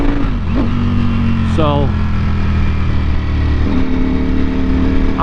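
A 2020 Ducati Panigale V4 motorcycle exhaust rumbles loud and close at partial throttle, with a few short revs rising and falling over a steady engine drone while a rider talks briefly.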